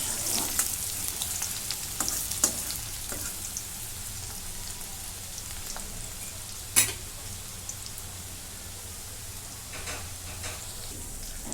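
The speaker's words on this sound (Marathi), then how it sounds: "मी भरपूर असं लसूण घेतलेला आहे भाजीला लसूण तांबू होईपर्यंत भाजून घेते" Plenty of garlic frying in a pan for a dill greens dish, giving a soft, steady sizzle with occasional sharper pops and stirring scrapes, fairly quiet and close.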